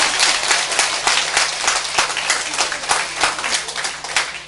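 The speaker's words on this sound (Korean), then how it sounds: "이 정도면 박수 한번." Audience applause at a Catholic faith lecture, many hands clapping steadily and loudly throughout, a dense continuous patter with no talk over it.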